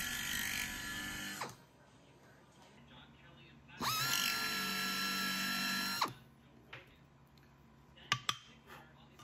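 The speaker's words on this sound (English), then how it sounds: "The battery angles will have several nut plates attached, so these need to be countersunk." A drill countersinks holes in aluminum battery angles for nut plates while building a Van's RV-14 airplane aft fuselage: two loud, steady high-pitched whirring bursts, then quiet with a few short clicks.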